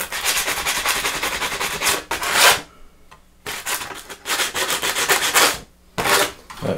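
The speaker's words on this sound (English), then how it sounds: "if you're wondering why it sounds so loud to sand this, it's because I ended up having to attach the microphone to the bench" Sanding a wooden part for a Shopsmith scroll saw repair, with the microphone attached to the workbench, gives loud, close scraping strokes in bursts separated by brief pauses.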